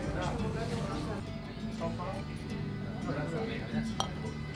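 A glass of chilled chardonnay clinks at a restaurant table in Montenegro, one sharp chime standing out near the end over ongoing talk and soft tableware clatter.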